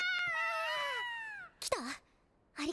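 A cat in an animated series gives a long, drawn-out meow followed by two shorter meows after a brief pause, clear and close against a quiet background.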